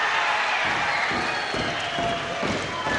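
Boxing crowd applauding and cheering for the winner, Sanders, after a final-round finish against Cooper; a dense, steady wash of clapping and crowd noise fills the whole moment at constant loudness.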